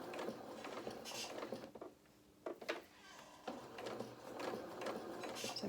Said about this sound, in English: I think it's the spring on my pedal that's making the noise.